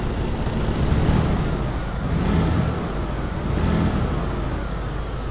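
A simulated 625-horsepower Mercedes Actros MP4 truck engine in Euro Truck Simulator 2 runs with a deep, steady drone that swells gently every second or so, moderately loud with no speech.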